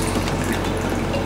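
A piece of cotton is soaked in water and makes a brief, close, wet liquid sound with faint dripping and sloshing throughout, with no voices.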